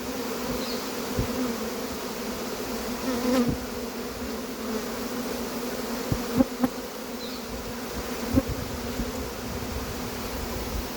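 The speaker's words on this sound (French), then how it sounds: "plein d'abeilles volent autour" A swarm of honeybees buzzes in a continuous low hum as they move into a cardboard box, with a few brief knocks and rustles over the drone.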